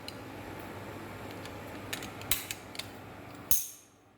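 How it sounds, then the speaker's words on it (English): A Snap-on torque wrench ratchets with a few quiet clicks and creaks, then one sharp loud snap near the end that rings briefly before falling silent. "I got a snap-on torque wrench here."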